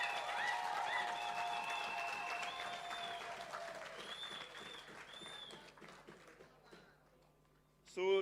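A crowd applauds steadily, the clapping dense and sustained before thinning out toward the end, with a burst of noise at the very close.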